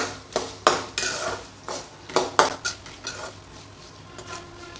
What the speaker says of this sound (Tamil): முருங்கைக்காய் நல்லா எண்ணெயிலே வதங்கணும்.